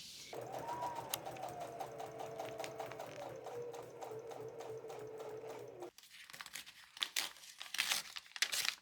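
A sewing machine stitches a zipper onto a knitted sweater, running in a quick, even rhythmic whir for several seconds, then stops and gives way to crinkling and handling of the fabric.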